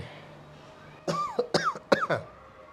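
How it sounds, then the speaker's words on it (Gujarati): A short burst of several harsh coughs in quick succession from an ill elderly man, close and fairly loud, after a moment of quiet room tone. "હું આવ્યો એટલે ઉધરસ આવી એમ ને"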